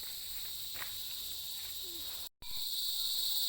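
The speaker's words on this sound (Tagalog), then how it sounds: "At maririnig nyo yung kuliglig sa aming bakuran." Crickets chirping in a backyard at sunset, a steady high-pitched trill sustained throughout, with a brief dropout midway and faint low background rustle.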